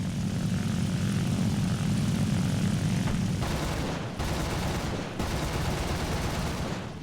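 Propeller aircraft engine roaring through a strafing run in the War Thunder game, a loud continuous drone that shifts pitch as it passes, with bursts of gunfire breaking in near the end.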